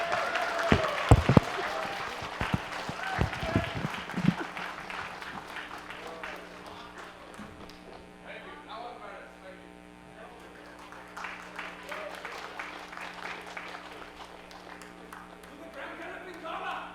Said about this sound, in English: Clap, go.